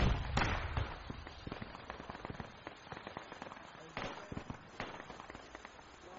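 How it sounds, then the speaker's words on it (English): Video game firefight with bullets and RPG explosions, a dense spread of sharp cracks and bursts, some loud and close and others fainter, over a steady noisy background. "we're getting hit by RPGs and bullets"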